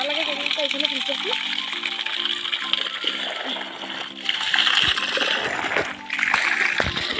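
A person bathing outdoors in a shaded spot, splashing and pouring water in repeated sloshes, with a voice talking in the background throughout.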